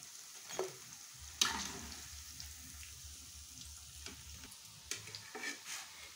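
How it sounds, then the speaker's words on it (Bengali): Corn pakoras fry in hot oil, a quiet steady sizzle with occasional clinks and scrapes as pieces are stirred and lifted from the pan. "দেখো আমার এই যে ভুট্টার পাকোড়া ভাজা হয়ে গেছে।"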